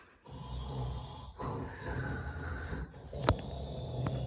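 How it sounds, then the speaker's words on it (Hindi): A man snores loudly and continuously in long rasping breaths, close and rough, with a sharp click partway through. "क्यों खर्राटे भर रहा है?"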